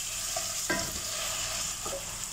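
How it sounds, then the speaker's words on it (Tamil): Chicken pieces stirred into rice vermicelli frying in a pan: a constant soft sizzle, broken by two scraping stirs of the spatula, one near the start and one near the end, with nobody talking. "இது கூடவே நம்ம கட் பண்ணி வச்சுருக்கிற சிக்கனை சேர்த்துடலாம்। சேர்த்துட்டு நல்லா கிளறி விட்டுருங்க।"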